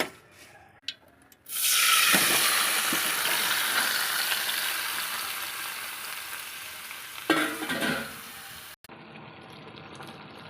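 Garlic frying hard in hot oil for tomato chutney, a loud steady sizzle that bursts up and slowly fades over several seconds, with a brief stir near the end before it cuts off.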